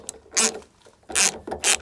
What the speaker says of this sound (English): We need a Torx bit to get these bolts out, specifically a T30.